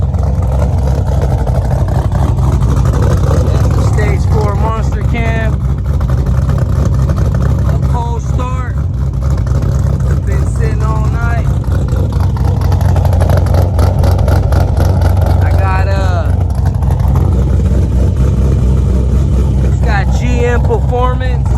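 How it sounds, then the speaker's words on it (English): A 2010 Chevrolet Camaro SS with GM performance mufflers and a stage 4 cam idles loud and steady with a deep, lumpy rumble, while someone talks over it throughout. "It's got GM performance mufflers on it with a stage 4 monster cam."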